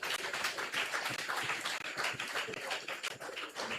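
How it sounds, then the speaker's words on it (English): Crowd applause at a political party town hall, steady rapid clapping from many hands that holds at a fairly even level throughout. "Please give them a round of applause."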